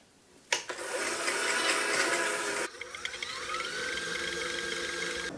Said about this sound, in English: we just want to mix this until all of the butter and the sugar have creamed